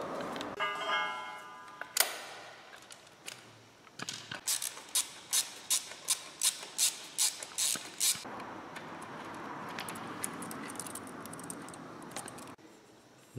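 A ratchet wrench clicks in a steady series of about a dozen sharp, close strokes while a screw is removed from a BMW R NineT Scrambler motorcycle engine, with light handling clatter before and a faint hum after.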